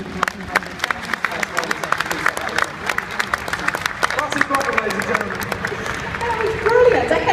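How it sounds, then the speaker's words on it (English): Audience applause and scattered cheering in an arena at a live motorsport action show, steady clapping building slightly toward the end with a voice calling over the crowd. "let's have a big round of applause for the amazing Martin"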